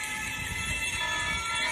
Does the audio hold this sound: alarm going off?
yes